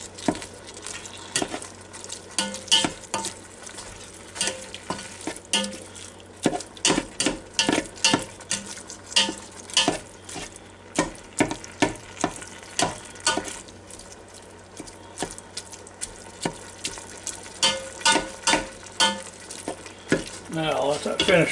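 Ground beef sears and browns in a Ninja Foodi Deluxe pot while a utensil scrapes and stirs it. Sharp scraping strokes come in a busy, uneven rhythm over a constant close sizzle.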